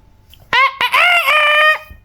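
A voice imitates a chicken with one bright, drawn-out clucking crow, loud and close, sung alone in a quiet room.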